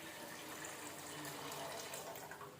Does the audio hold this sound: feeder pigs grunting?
no